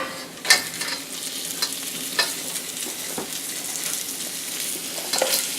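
Cabbage frying in oil in a pan, a continuous close sizzle broken by occasional stirring scrapes and sharper crackles, no talking.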